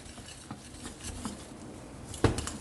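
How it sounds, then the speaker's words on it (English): Churros dough of flour stirred in a pan, soft scraping and knocking of a utensil against the pan, close and fairly quiet, with a sharper clack near the end. "Put in the flour. And stir."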